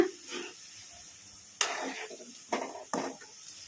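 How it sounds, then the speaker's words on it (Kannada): Cauliflower pakoda sizzles in hot oil with a soft steady hiss, broken by several sharp scraping bursts as the fritters are stirred in the pan. "ಈ ಥರ ಕಲಿಸ್ಕೊಂತ ಫ್ರೈ ಮಾಡ್ಕೋಬೇಕು"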